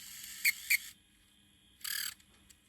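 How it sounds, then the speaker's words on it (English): Squeaky UMD drive in a Sony PSP chirping: two quick high-pitched squeaks close together, a pause, then a longer bright chirp, close and fairly loud in a quiet room. "Still chirps like a little pigeon."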